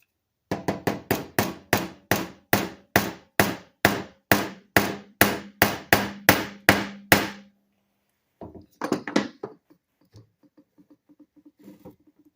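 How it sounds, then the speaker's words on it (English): Hammer tapping a nut out of an antique wooden tool on a gunsmith's bench block: about seventeen sharp, evenly spaced metallic taps close up, then a pause and a few scattered softer knocks and rattles. "I'll just take the nut, put it right over top of that hole. That way the wood is supported as I'm tapping that nut out."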